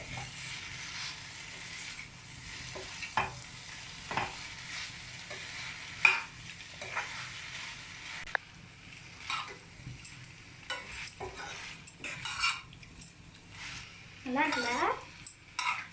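Spaghetti noodles tossed and mixed in a pan, with intermittent clinks and scrapes of utensil against metal over a soft low sizzle, brief bursts of louder stirring near the end.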